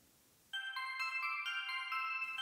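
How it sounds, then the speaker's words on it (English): A phone ringtone starts abruptly after a moment of quiet, a bright, loud electronic melody of repeated tones that plays steadily until cut off. "the sound of her loud, annoying ringtone coming from downstairs"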